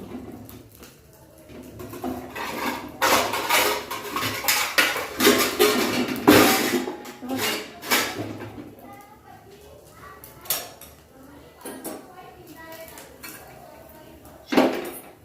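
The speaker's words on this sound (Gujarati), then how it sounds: "હવે આપણે તવીમાંથી એને નીકાળી લઈશું" A crisp semolina bun is lifted off a hot tawa griddle, with scraping and clinking of a metal spatula and utensils in a home kitchen while someone talks throughout.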